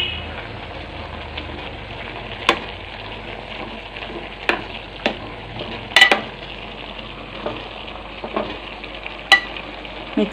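Cooked kootu curry vegetables coated in coconut paste are stirred in a pan, with a steady sizzle broken by periodic scrapes and clinks of the spoon against the metal.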